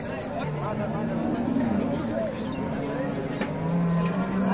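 Cows and calves of the Deshal breed low repeatedly at the crowded Ambari cattle market, several moos rising over steady crowd chatter and livestock noise.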